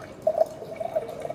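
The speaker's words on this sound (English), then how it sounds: "pour more water over your electrode" Water poured over a pH electrode in an acid-base lab, a faint run of small dripping and trickling splashes close by, with no talk.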